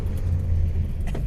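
A carburetted Porsche 911 on a cold day gives a quick throttle blip over a steady low engine rumble, heard close and fairly loud for a moment.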